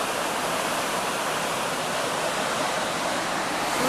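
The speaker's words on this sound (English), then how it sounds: "The water comes down here" Water rushing down a river gorge beneath an early 20th-century bridge along a Welsh railway, a steady, loud, dense roar of flowing water with no pauses or voices.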